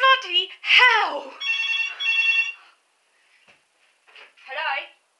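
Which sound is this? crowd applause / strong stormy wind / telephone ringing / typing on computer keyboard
telephone ringing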